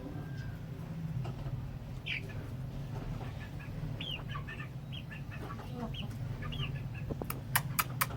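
A pair of hens, including Shamoo and Mianwali breed chickens, cluck softly in short scattered calls over a low steady background hum, faint and close, with no talking.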